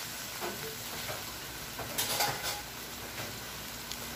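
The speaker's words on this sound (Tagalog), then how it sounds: "atin na pong medyo ipiprito ng konti itong ating pork belly" Pork belly frying in a little oil for adobo, a steady low sizzle with faint stirring scrapes and a brief louder burst of crackle partway through.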